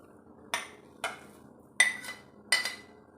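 Potatoes are dropped into a large glass bowl, giving four separate clinking knocks spaced about half a second apart, close and moderately loud with no voices.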